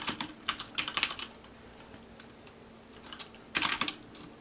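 Rapid bursts of computer keyboard typing while entering code, a dense flurry of keystrokes at the start, a lull with scattered taps, then another quick burst near the end, close and moderately loud with no talking.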